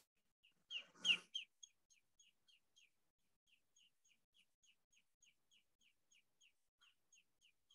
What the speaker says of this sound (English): And even the very vocal lesser yellowlegs are quite intriguing.